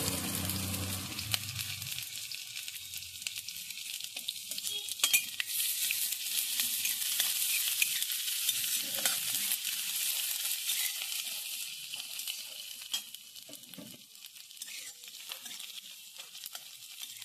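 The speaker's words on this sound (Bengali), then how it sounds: "প্রথমে আমি রসুন আর আদাগুলোকে ভেজে নিচ্ছি।" Chopped garlic and ginger fry in a pan with a continuous bright sizzle, steady and close throughout, with faint stirring clinks.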